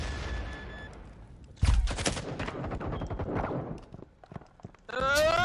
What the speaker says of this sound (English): Gunfire back and forth is eternal.